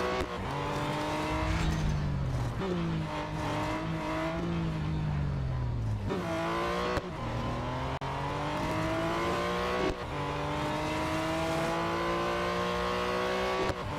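Race car engine in the Real Racing 3 video game, loud sustained revving that climbs and drops through gear changes, with abrupt downshifts under braking and no voices.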